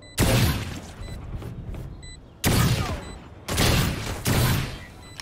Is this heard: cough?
no